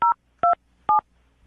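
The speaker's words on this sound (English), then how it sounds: "I'm about to dial the phone number and get him on the phone" Three keypad tones from a telephone being dialed beep in even succession, each short, crisp and loud, separated by near silence.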